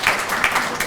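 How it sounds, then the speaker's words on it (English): A conference audience applauding after a talk on fasting, dense continuous clapping at moderate loudness with no talk over it. "I think they deserve a round of applause for all that"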